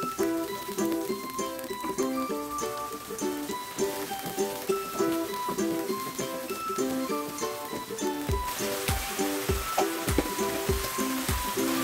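Bay leaves, anchovies and spices sizzling as they are stirred in a frying pan, a steady crackling hiss with light clinks of a utensil, growing louder and busier toward the end.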